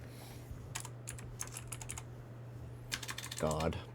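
Keys clacking in short irregular bursts on a keyboard used with an iPad, close and fairly quiet over a steady low hum, with a brief voiced sound near the end.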